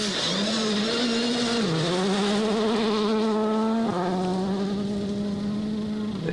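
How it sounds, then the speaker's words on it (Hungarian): A high-revving rally car engine whines loudly and steadily at a rally stage start, pitch climbing, dipping with a gear change, then climbing again as the car accelerates away. "lehetett hallani, ahogy dolgozott a motor"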